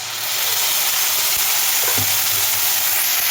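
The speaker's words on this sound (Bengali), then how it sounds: "মশলাটা ফ্রাই করে নেবো ভালো।" Onions and spices fry loudly in hot oil in a pan, giving a dense, continuous sizzle with a few stirring scrapes mixed in.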